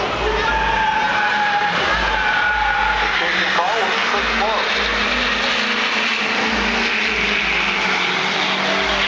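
A Duramax HD diesel pickup roars at full throttle down a drag strip at a diesel racing event, a loud sustained engine drone with a rising whine as it pulls through the gears, and a voice talks over it.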